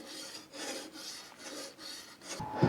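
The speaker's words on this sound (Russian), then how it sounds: "Подточил я газосиликатный блок рубанком, обычным рубанком" Ordinary hand plane shaving down an aerated concrete block during second-floor masonry work, a dry rasping scrape in repeated strokes with a louder, harsher scrape at the end; no talking.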